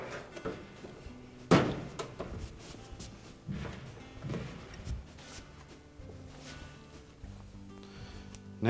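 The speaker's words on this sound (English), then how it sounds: "we'll have to lift up on the drum a bit to slide that front panel in" Front panel of a Frigidaire dryer being slid back into place over the drum, with a sharp knock, a few softer thunks and light scraping, fairly close and quiet.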